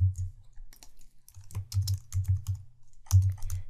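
Quick bursts of keystrokes on a computer keyboard, close and fairly soft, come in short clusters with brief pauses between them, as if entering short code snippets.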